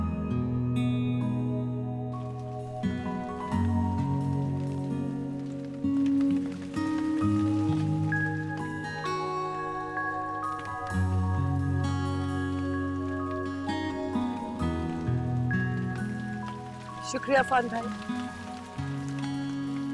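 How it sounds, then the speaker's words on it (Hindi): Heavy rain falls steadily in a television drama scene, a soft continuous patter beneath a swelling music score, with a brief spoken line near the end. "इतनी तेज बारिश हो रही है, मुझे तो पता ही नहीं था।"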